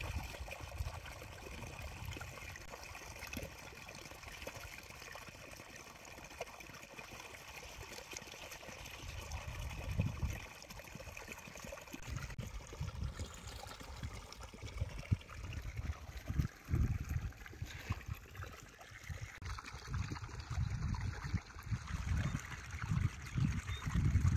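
Low, steady rush and trickle of irrigation water flowing into field beds nearby, with a faint background hum and no talking.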